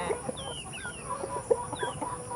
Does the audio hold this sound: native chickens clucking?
yes